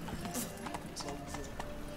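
Horse hooves clip-clop in rapid rhythm as a horse gallops in The Witcher 3, steady repeated hoofbeats over a busy game background.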